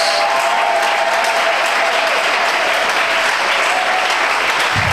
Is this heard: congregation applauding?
yes